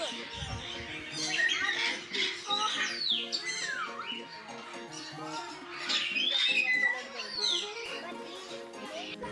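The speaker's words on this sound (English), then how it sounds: "These are splendid starlings." Splendid starlings call in a bird park, with a busy mix of whistles, squawks and rising and falling chirps repeating over several seconds, fairly close and loud against a murmur of background noise.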